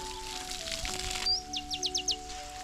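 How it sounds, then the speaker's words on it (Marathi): A big bird near trees gives a run of about five quick, sharp calls, fairly faint, over a low steady hum and background noise. "अरे मोठा पक्षी आला. हा बघ आला."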